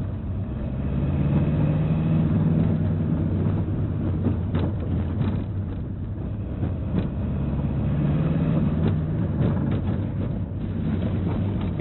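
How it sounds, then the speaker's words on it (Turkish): A Ford Tourneo Connect's engine drones steadily from inside the cabin while driving on a rough, broken road, a continuous low rumble with road and wind noise and occasional bumps throughout. "Daha çok biraz motorun sesini dinleyin."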